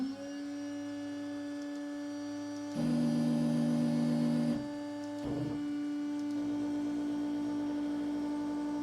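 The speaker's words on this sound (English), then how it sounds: "so now I have the spindle on" A CNC machine spindle spins with a steady tonal hum, getting louder for a couple of seconds midway, then dropping and settling back into a constant whine. No voices are heard.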